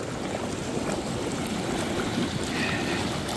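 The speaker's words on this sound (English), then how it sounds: "This is Tonahutu Creek." Tonahutu Creek near the top of Granite Falls runs in a continuous rushing wash of flowing water, close and steady throughout with no voices.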